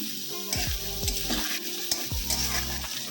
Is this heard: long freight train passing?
no